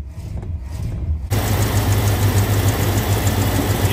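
A 1968 Chrysler Imperial barn-find V8 idles steadily after a brief startup, its loud, even rumble running alone without a break.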